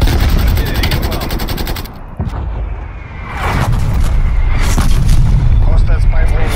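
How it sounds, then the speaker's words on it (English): Artillery strike explosions and rapid gunfire in Black Ops Cold War on Nuketown '84 during a Domination match: dense, loud, continuous blasts and shots with a brief lull near the middle, mixed under voice lines. "Artillery inbound."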